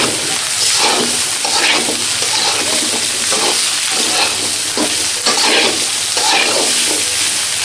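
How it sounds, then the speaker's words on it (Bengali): Cauliflower and broccoli fry loudly in a pan for vegetable fried rice, a dense steady sizzle broken by repeated scraping stirs of a utensil, close and continuous with no talking. "এখন এর মধ্যে আমরা ফুলকপি ব্রোকলি যেই সমস্ত সবজিগুলো একটু বেশি সময় ধরে রান্না করতে হবে সেগুলো দিয়ে দিব প্রথম"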